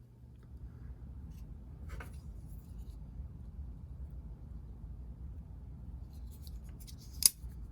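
A small nipper or cutter snips the rear axle of a starling ornament, a single sharp click near the end over a steady low hum, with a fainter tick earlier.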